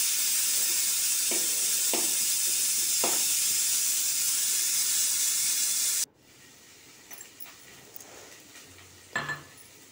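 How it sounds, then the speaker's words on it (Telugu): Green chillies frying in a pan for a linseed and potato curry, a loud steady sizzle and hiss that cuts off abruptly partway through, leaving faint clinks and quiet kitchen noise. "పచ్చిమిర్చి అన్నీ బాగా వేగాలి"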